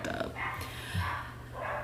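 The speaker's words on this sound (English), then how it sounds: "You guys, why are you barking?" Dogs bark and growl in the background, a few rough barks coming and going under a steady low hum, fairly distant and moderately loud.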